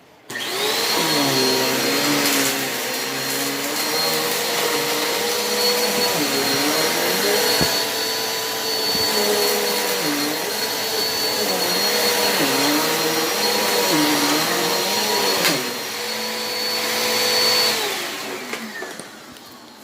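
A Hoover Elite Rewind vacuum cleaner runs continuously for about twenty seconds. Its loud motor whine rises and dips in pitch as it is pushed back and forth over the floor, with no talking.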